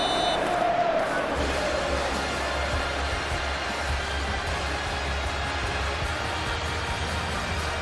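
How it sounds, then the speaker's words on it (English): A packed stadium crowd in the PES 21 football game, Manchester United vs Aston Villa, gives a steady, dense roar that holds evenly throughout, with no breaks. "This a capacity crowd here."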